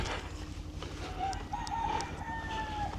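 A rooster crows near a banana plantation by Playa Paraíso, a thin drawn-out call at moderate distance over a steady hum of ambient background noise, with no voices.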